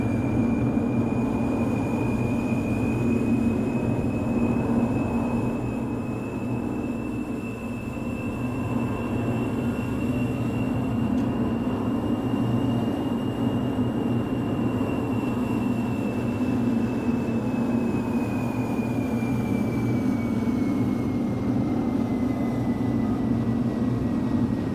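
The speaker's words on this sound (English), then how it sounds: "Sounds like it's taking off now." An A320 airliner rolls down the runway and takes off in a flight simulator game, with a steady low engine rumble and a sustained high whine that slowly rises and falls across the whole stretch, with no talking.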